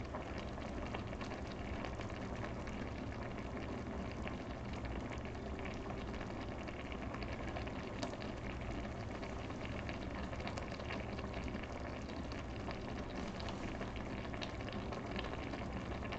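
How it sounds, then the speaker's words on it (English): Kimchi jjigae stew bubbling in a pot, a steady, dense boiling hiss and crackle that continues unbroken and fairly loud, with no voices. "I can hear the boil. I love the boiling sound."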